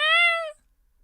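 A pet cat gives one clear, close meow lasting about half a second, then silence follows.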